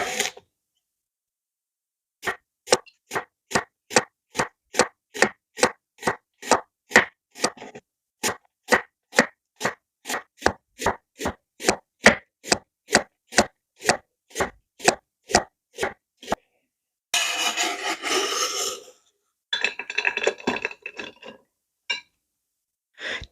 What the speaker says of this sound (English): Finely slice one medium onion.